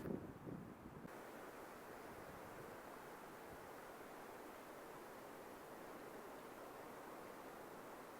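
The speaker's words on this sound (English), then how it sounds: "You've got the raging sea with the storm going on one side of the headland" Storm-driven sea waves surge against a Cornish headland in a steady, dense roar of surf and wind buffeting, continuous and fairly loud, with no voices.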